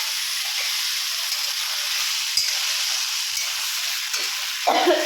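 Onions fry in a pan for a chicken dish, giving a steady, loud, close hiss of sizzling oil throughout, with a brief burst of stirring near the end.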